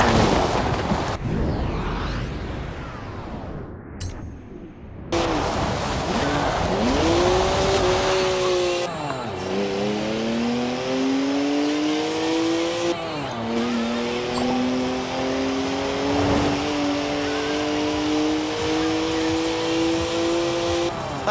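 BMW 1M with a 3-litre twin-turbo straight six, 335 horsepower, drifting in Forza Horizon 4: after an opening burst of noise, the engine revs rise and fall in long sweeping pulls, loud and close, with brief dips between gear changes.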